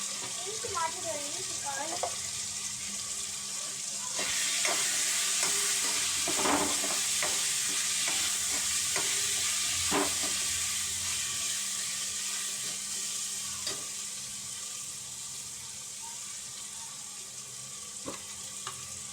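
Asafoetida powder sizzling in hot oil, a steady broad frying hiss that swells partway through, with occasional spoon scrapes and light clinks of stirring.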